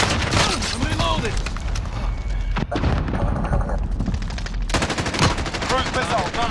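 An automated sentry gun rattles off sustained machine-gun fire in Call of Duty: Modern Warfare, dense rapid bursts mixed with booms and thuds in a busy battle, with voices talking over the din.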